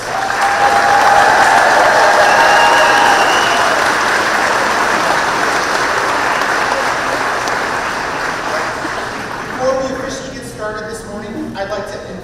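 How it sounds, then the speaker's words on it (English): Loud, dense audience applause for the graduating students at a school promotion ceremony, steady for several seconds and then thinning into scattered claps toward the end. "Let's give our students one more big round of applause."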